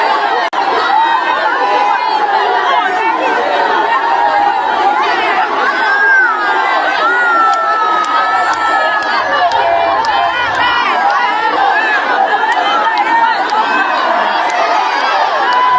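A large crowd at a packed event venue, heard as played back, with dense overlapping chatter, shouting and cheering that keeps up steadily at close range.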